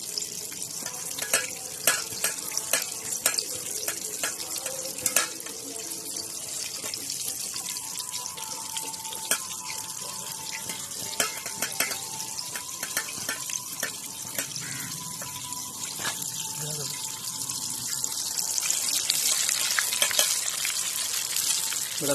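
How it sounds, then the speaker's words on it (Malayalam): Chicken deep-frying in hot oil at home, a bubbling, crackling hiss with frequent sharp pops that swells louder toward the end, no speech. "എണ്ണയിൽ കിടന്ന് തിളക്കുകയാണ്."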